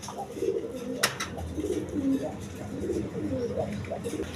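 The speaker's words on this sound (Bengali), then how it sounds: "এখানে এক পেয়ার মসলদম কবুতর আছে" A pair of Mosaldom pigeons, a hen and a cock, coo in soft repeated throaty phrases close by, with a brief sharp click near the start.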